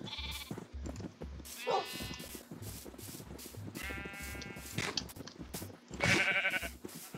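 Sheep bleating in a video game, several distinct wavering bleats spaced a second or two apart over a busy low rhythmic background, moderately loud and clear.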